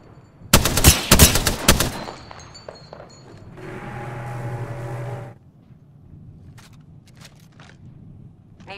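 Gunfire in the video game Apex Legends: a loud burst of rapid automatic shots, then scattered fainter pops, followed by a steady humming electronic drone and quieter trailing clicks.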